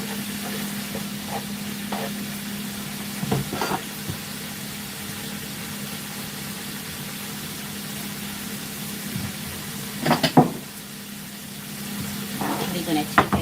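Shrimp fry in a pan with a soft, steady sizzle, broken by a few sharp clinks and stirring knocks of a utensil against the pan.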